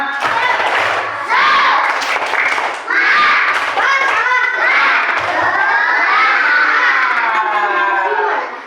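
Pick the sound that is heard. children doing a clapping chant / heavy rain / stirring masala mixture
children doing a clapping chant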